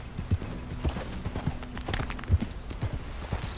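A horse's hooves clip-clop at a steady gait while riding in Red Dead Redemption 2, fairly close among faint game ambience and brief noises, with no one speaking.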